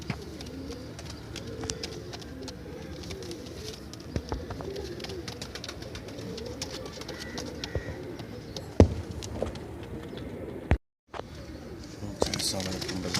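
Kale zaak pigeons, one female and two males, coo at a pigeon market in Multan, soft repeated coos under a busy background of voices and market noise, with a brief dropout near the end.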